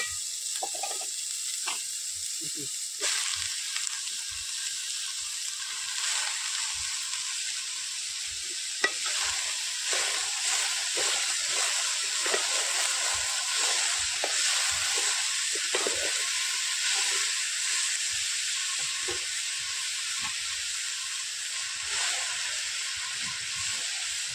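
Steady hiss of red amaranth leaves sizzling in hot tempering oil, close by, with soft stirring scrapes and clinks throughout, no talking.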